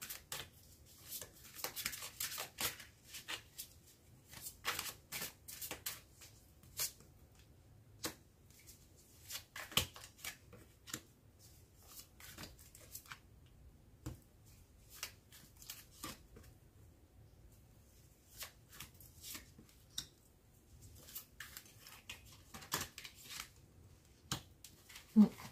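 Tarot cards being drawn and laid out on a table, soft papery slides, flicks and taps in scattered bursts with quiet gaps between, close and fairly faint, with no talking.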